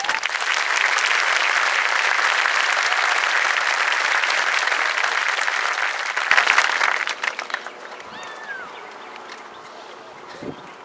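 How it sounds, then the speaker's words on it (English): Audience applause at a high school graduation honoring students, loud sustained clapping for about seven seconds that then tapers off, leaving scattered claps and faint room noise. "Please honor these students with your applause."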